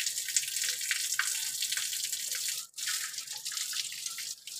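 Water running steadily during a bath, a continuous bright hiss of flowing water with one brief break partway through, no voices.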